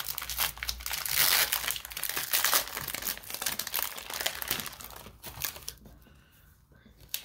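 A 2021 Donruss Baseball value pack of cards being torn open, with close, busy crinkling and tearing of the foil wrapper that builds, then thins out toward the end.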